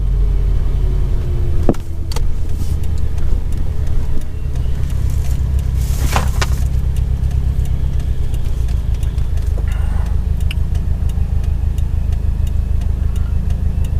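A 2017 Subaru WRX STI with a Stage 2 tune rumbles and pulls under acceleration in sport sharp mode, its low engine drone steady and close, with a few sharp ticks and clicks from the cabin.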